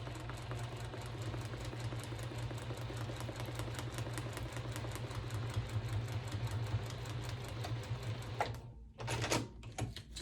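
A sewing machine stitches a New York Beauty paper-pieced quilt block, running in a steady, continuous mechanical whir with a low hum underneath, then briefly pausing and giving a few sharp bursts near the end. No one speaks.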